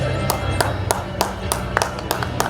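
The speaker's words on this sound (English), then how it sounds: "Can we have huge claps?" Audience at an awards event clapping along, with sharp claps landing in a steady rhythm over a busy hall hum and background murmur.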